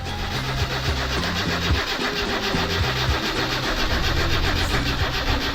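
A car engine in the driving game My Summer Car cranks steadily over and over without catching, a dense, even churning that runs loud and unbroken throughout, with no voices.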